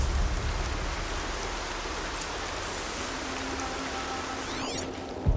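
Steady rain falling in Horizon Zero Dawn, a constant broadband hiss of drops that holds at an even level throughout, with a faint low hum joining near the end.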